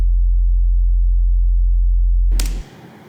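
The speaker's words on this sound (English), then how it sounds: "you can hear it's just a standard sine wave." A plain synthesizer sine wave tone, with no pitch drop, from a jungle production setup; a steady low pure tone holds loud and alone for over two seconds, then cuts off into a brief noisy burst.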